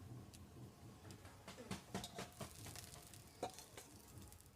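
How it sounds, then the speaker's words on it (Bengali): Village-style winter pitha cakes frying gently in hot oil over a low flame, a soft, steady sizzle with irregular crackles and pops throughout, fairly quiet and heard alone. "এইভাবে বাকিগুলো ভেজে নেব আস্তে আস্তে করে জাল দিতে হবে"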